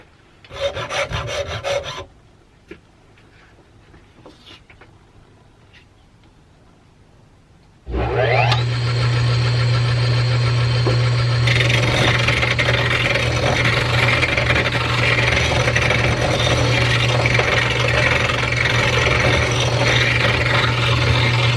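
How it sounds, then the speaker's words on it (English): A saw rasp files wood turning on a 1950s Sears wood lathe (model 103.21600). Brief scraping comes first, then a quiet gap. After that the lathe motor hums steadily under a loud, continuous rasping rub. "I'm grabbing a random tool, a saw rasp"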